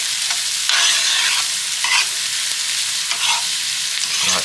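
Vegetables and garlic sautéing in beef tallow make a loud, steady sizzle and fry, with stirring scrapes and brief louder bursts throughout.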